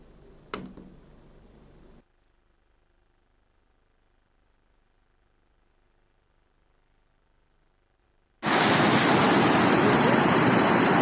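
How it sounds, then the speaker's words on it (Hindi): A large volume of water released from a dam rushes near a bridge as a loud, continuous roar. It breaks in suddenly after a brief burst of noise and a long near-silence. "चंडीपेट से जो भारी मात्रा में पानी छोड़ा गया है"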